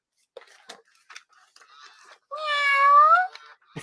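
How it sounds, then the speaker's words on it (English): A toy cat gives a clear, synthetic-sounding meow with rising tones, preceded by faint clicks and small rustling sounds. "all you could hear when I was walking the aisles was the cat meowing"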